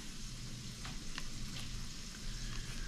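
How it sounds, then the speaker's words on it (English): Steady crackling sizzle of fish frying in hot oil, continuous and close, with a few sharper pops and spatters along the way. "while the other batch of fish is frying up"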